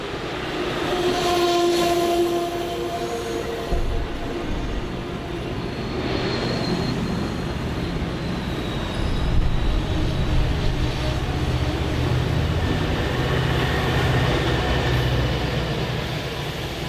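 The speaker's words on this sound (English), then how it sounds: "All Amtrak trains on the racetrack stop here, including the morning run to Quincy." An Amtrak passenger train rolls along the busy BNSF racetrack line at a suburban station, a continuous loud rumble of wheels and cars passing close by with a faint horn tone early on.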